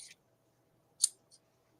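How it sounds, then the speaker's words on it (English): A large pair of 13-inch scissors handled close by, giving a couple of short, crisp metallic snips or clicks separated by quiet. "I have some huge pairs of scissors."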